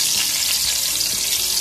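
Cooking oil hissing and sizzling steadily in a hot pan while preparing chicken Bicol Express, a loud continuous bright crackle with no talking.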